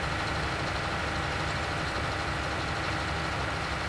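A tractor engine in Farming Simulator 19 drones steadily at a constant idle-like pitch, a dense continuous rumble with no breaks or voices.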